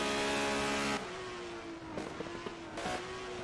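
Racing cars of the 1980 Procar series on the AVUS circuit in Berlin back off for a chicane, a high engine note that drops away and is followed by fainter revving and blips of downshifts.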